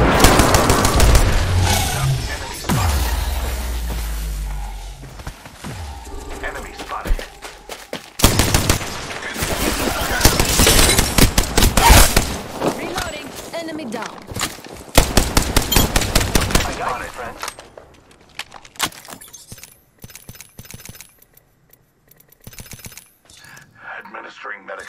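Apex Legends gunfire crackles in dense automatic bursts, loud and close through most of the stretch, then thins out near the end, with a voice talking over the shooting.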